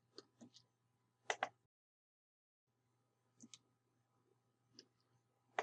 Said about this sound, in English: using the delete key on the keyboard